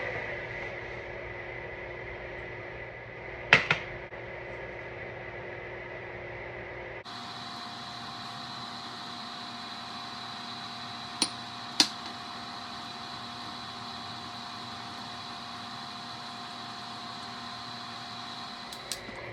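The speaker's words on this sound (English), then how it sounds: "I'll be doing this under a vent fan just in case there's any fumes and stuff" A vent fan running over a soap-making setup with bacon fat and drain cleaner gives a steady, faint broadband whir. It changes pitch and character partway through, with a few brief clicks and knocks on top and no talking.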